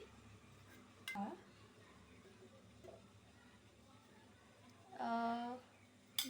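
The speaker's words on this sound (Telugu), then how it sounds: "అండ్ ఫస్ట్ అయితే మనం ప్యాన్ పెట్టేసుకోవాలి." A pan sets down on a kitchen stove with a couple of metallic clinks and a brief ringing scrape, close and clear, heard between stretches of quiet room noise before ghee goes in.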